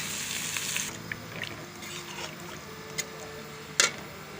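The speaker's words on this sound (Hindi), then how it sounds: "ये प्याज फ्राई हो गए।" Onions fry in a pan for a chicken liver and okra dish, giving a soft, steady sizzle with a few clanks and stirring sounds, faint and close.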